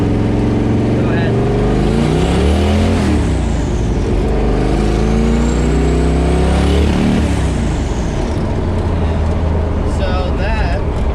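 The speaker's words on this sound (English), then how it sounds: "So that, my dear sir, is the wastegate. Popping early." A twin-turbo V8 swapped into a Toyota Corolla revs hard and loud while driving, its engine note swelling and falling across the run, with the wastegate popping early; sharp chirps near the end, with voices over the engine.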